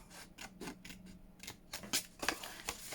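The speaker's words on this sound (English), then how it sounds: "I'm just going to score it down just to make it easier for me to cut, and I'm going to cut down here" Scissors snip through scored paper for a junk journal, a string of short crisp cuts with light rubbing between them, close and fairly quiet.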